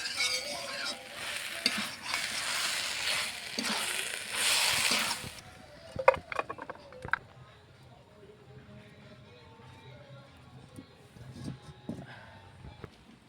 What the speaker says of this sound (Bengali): মাছের ঝোল রান্না করব, এখন আলুটা ভেজে নিচ্ছি ভালো করে